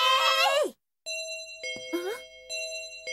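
A doorbell chimes in the 2005 animated series Onegai My Melody, with several bright, ringing tones in quick succession mixed with brief vocal sounds.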